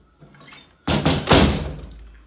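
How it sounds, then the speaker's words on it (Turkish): A door closing, heard as one loud thudding slam with a short rattle after it, close by and alone, following a faint rustle. "Evet, kapı nasıl kapanır?"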